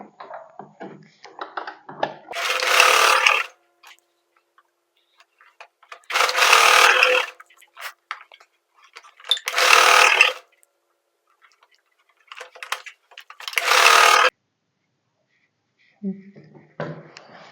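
A sewing machine joins bias strips of blouse lining in four separate runs, each lasting about a second. Quiet pauses with faint clicks and handling sounds fall between the runs.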